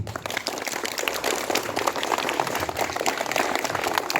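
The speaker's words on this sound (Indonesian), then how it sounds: "berikan tepuk tangan buat teman-teman kita" Students applaud classmates at a Monday flag ceremony at school, a steady wash of scattered clapping across the whole stretch, fairly distant and even, with little talk.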